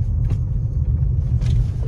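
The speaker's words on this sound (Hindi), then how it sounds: "मुझे ऐसा लग रहा है कि गाड़ी थोड़ी सी आवाज कर रही है।" Low steady road rumble and engine drone inside a Maruti Suzuki Brezza VXi while driving, with faint door noise and a few brief rattling bursts over the constant hum.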